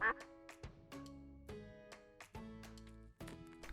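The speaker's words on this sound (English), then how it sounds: "A duck." Repeated nasal quacks from a duck, several in quick succession and close up, alone without talk.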